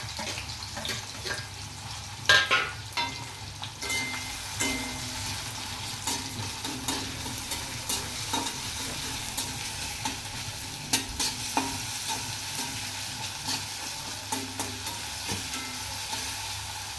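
Chopped onions fry in hot white oil in a kadai, a loud continuous sizzle with repeated stirring scrapes and knocks of a spoon against the pan throughout.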